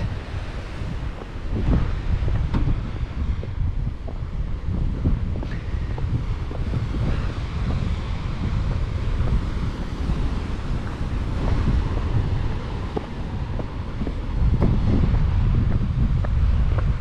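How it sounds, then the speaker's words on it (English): Strong wind buffets the microphone on an overcast stretch of coast on the Eyre Peninsula, a loud continuous roar with gusty low thumps and surf-like rushing, no voices. "Windy and overcast."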